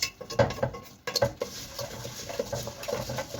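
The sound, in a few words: stirring vermicelli in oil in a pot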